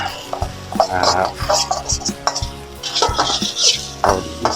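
Stir-frying with sauce in a wok: close, busy clatter of a utensil scraping and knocking against the metal pan in irregular bursts, with faint sizzling underneath and no talk.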